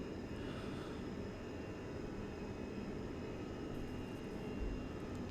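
Inside a Fenix A320 airliner taking off from Tampa in Microsoft Flight Simulator 2020, a steady, dense engine roar and rumble hold constant throughout, loud and continuous with no speech.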